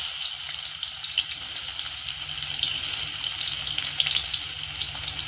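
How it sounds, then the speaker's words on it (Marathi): Chopped onion hitting hot oil with mustard seeds, a steady, fairly loud frying hiss that holds evenly and swells slightly midway, with no talking. "आता हा कट करून घेतलेला कांदा टाकून घेणार आहे"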